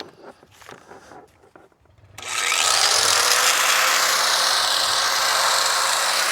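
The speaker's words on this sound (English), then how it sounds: "Now let's try a right angle grinder" A right angle grinder spins up abruptly while powered from a Powdeom 300W portable power station, its loud, steady high-pitched whine running continuously after a few quiet handling noises.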